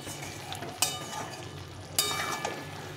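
Potatoes fried earlier are being stirred and browned again with meat in a pan, a steady soft sizzle running throughout with two sharp scraping clatters of a spoon against the pan.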